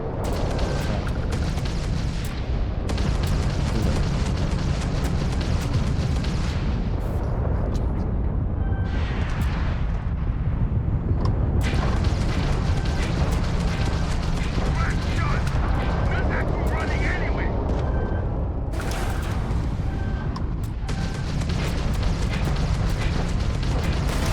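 Ship weapons firing repeatedly in a Starfield space battle, heavy booming and rumbling blasts layered in a dense, loud, continuous roar with brief lulls.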